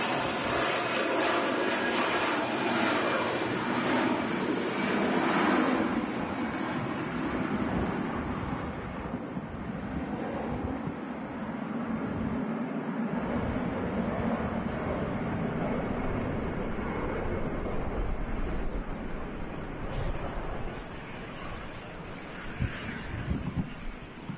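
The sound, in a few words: Boeing 757 jet airliner arriving at Manchester Airport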